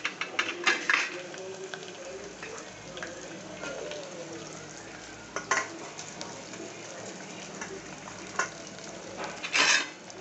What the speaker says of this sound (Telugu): వేసి కలుపుకుందాము, వేగనిద్దాం కొద్దిసేపు.